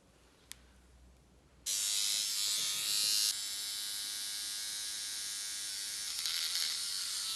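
A small electric eyebrow shaper pen switches on after a faint click and hums with a steady, close, high-pitched buzz while trimming an eyebrow, its tone shifting slightly as it presses against the hair.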